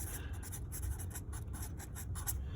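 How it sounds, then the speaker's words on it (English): Oil pastel dragged across paper in steady, close scratchy strokes, a continuous rough rasp with faint rhythmic pulses and no voices. "we're going to actually write oil pastel"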